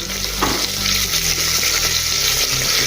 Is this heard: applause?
no